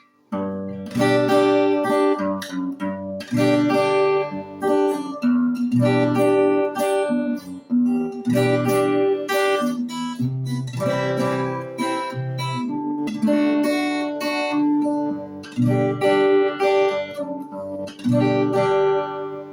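A bass guitar plays a line that bounces between low and high octaves, steady rhythmic notes with brief pauses, no voices.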